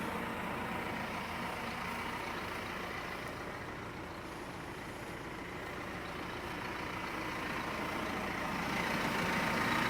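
A new baler's engine runs loud and steady, a dense continuous roar that swells slightly toward the end as it climbs toward full RPMs, with no talking.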